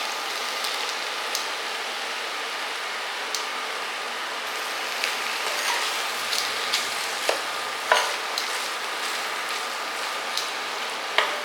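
Brinjal (eggplant) fry sizzles in a pan in a home kitchen, a steady soft hiss broken by scattered crackles and pops.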